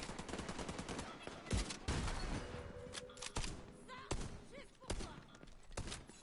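Gunfire from an allied character in The Division 2 comes in repeated sharp bursts and single cracks, some loud and some more distant, amid other thuds and game effects, with faint talk underneath.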